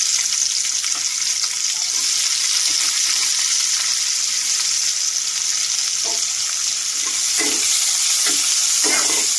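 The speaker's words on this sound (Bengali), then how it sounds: "এবার ওই তেলের মধ্যে কেটে রাখা পেঁয়াজগুলো দিয়ে ভাজবো।" Chopped onions frying in hot oil for chicken biryani, a continuous loud hiss of sizzling with occasional soft scrapes of a stirring spoon, close up and uninterrupted by speech.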